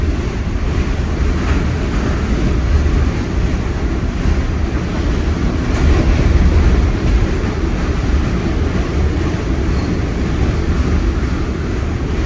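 Pakistan Railways train crossing the Empress Bridge over the Sutlej River, heard from inside as a loud, continuous rumble and rattle of wheels on rails that holds steady throughout.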